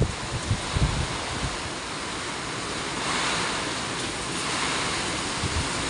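Strong sea waves crashing on the shore during Super Typhoon Uwan, a continuous roaring surf with heavy wind buffeting the microphone and a few louder thumps near the start.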